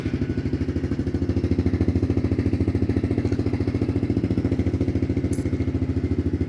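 A 2021 Honda CRF110 kids' dirt bike with a 110cc engine, started by push button and running at a steady rapid idle, close and alone.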